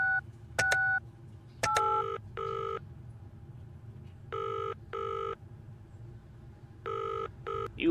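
A phone in a video game being dialled, with a short run of crisp keypad beeps followed by repeated electronic ring tones in evenly spaced pairs, loud and clean with no talking.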